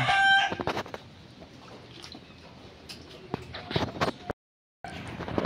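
Chickens kept under a rainy-season shelter cluck in short bursts close by, with occasional louder calls over a soft background hiss.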